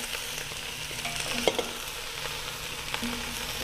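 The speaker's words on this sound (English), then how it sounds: "So we're gonna put some carrots and some potatoes." Carrots and potatoes go into a roast pot on a Nutri Stahl stovetop, raising a continuous close sizzle with stirring clatter and a few sharp utensil knocks.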